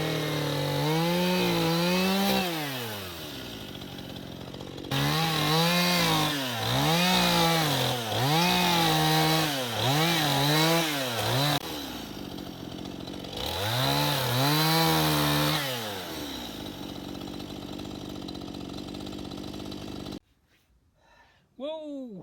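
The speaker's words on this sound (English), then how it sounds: "it's just going to be chainsaw and chisel" A chainsaw carves a big wooden Buddha sculpture, its engine revving up and down in repeated bursts of rising and falling pitch, loud and close, with brief pauses between cuts.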